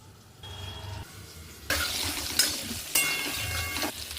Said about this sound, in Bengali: বাটি ধোয়া জলটাও দিয়ে দিলাম।